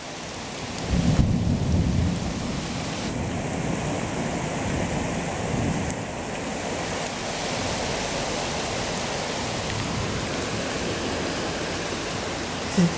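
Deep thunder rumbling through a spring storm in Quartu Sant'Elena, Sardinia, rolling under heavy steady rain and hail-like patter on surfaces, loud and close, with a louder burst early on and no voices.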